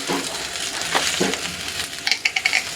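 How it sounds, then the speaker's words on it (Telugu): Dried red chillies hit half-fried onions in a pan for a rice curry, giving a close, crackling sizzle with a few sharp pops and spatters near the end. "ఉల్లిపాయలు సగం వేగిన తర్వాత ఎండుమిర్చి వేస్తున్నాను"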